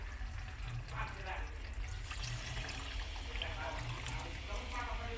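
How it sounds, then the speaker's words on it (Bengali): Hot water going into a pot of browned desi chicken curry: a constant, fairly soft splashing and trickling wash with a low rumble underneath, steady throughout. "এবার এর মধ্যে আমি দিয়ে দেবো গরম জল।"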